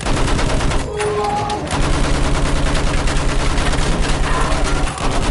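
Sustained battlefield gunfire from Battlefield 1, a dense, loud wall of overlapping shots and bursts running throughout, with a brief dip near the start and faint shouted voices mixed in.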